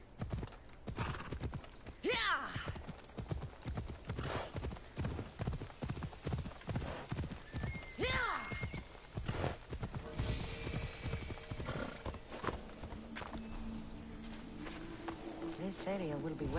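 Horse hooves clip-clop at a steady gallop in Assassin's Creed Odyssey, with neighs and whinnies breaking through several times, loud and close, mixed with game effects and occasional talk.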